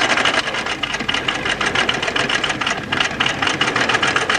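A home sewing machine runs steadily at a straight stitch with a 3 mm stitch length, backtacking to secure a pocket seam on children's Bermuda shorts, its rapid needle chatter loud, close and continuous without pause.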